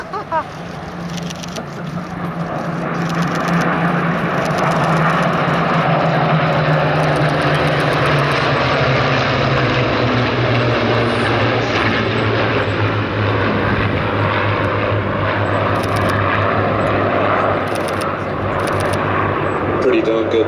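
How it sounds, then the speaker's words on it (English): A formation of Spitfire Mk IX fighter aircraft passes overhead at an air display, the piston engine drone swelling from distant to loud and steady, then holding, with faint crowd or commentary under the roar. "This is the last pass of the formation, says Paul"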